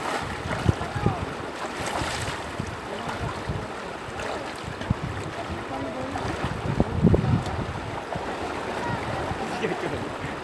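Broad, steady rush of the Carranglan river current flowing, continuous and fairly close, with wind buffeting the microphone and a few splashes and faint voices mixed in.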